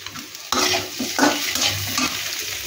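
Food frying in a pan with steady sizzling, broken by a few louder stirring scrapes and utensil clatters, close and alone.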